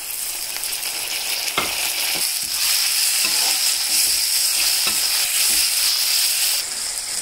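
Tomatoes hit browned onions in a hot pan and sizzle loudly and steadily, close up, with a few sharp stirring clinks and scrapes along the way and no talking.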